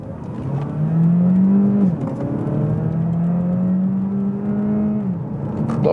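A 2022 Opel Astra GS-Line plug-in hybrid in sports mode, with both engine and electric motor working, accelerates hard from a rolling start at 20 km/h. Loud steady engine drone inside the cabin, pitch rising through the gears with a clear dip at each shift.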